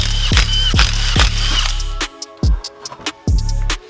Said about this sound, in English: So let's pull this wheel off and get that bolt out.